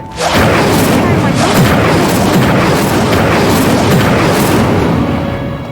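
Incendio fire spell cast in Hogwarts Legacy, a loud sustained roaring whoosh of flame with crackling bursts that fills the scene for several seconds, close and dominant.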